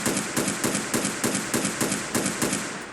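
Rapid gunfire rings out in Fallout 4, about ten sharp shots fired in an even rhythm at a settler sheltering behind a carapace, loud and close, with no talk.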